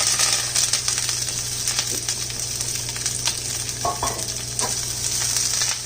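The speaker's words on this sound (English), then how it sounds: "Now I'm just gonna gently saute the kale and the onion together for a little bit" Kale and onion sauté together in a hot pan, a dense, close sizzle with intermittent stirring scrapes and a brief clink, continuous and fairly loud without speech.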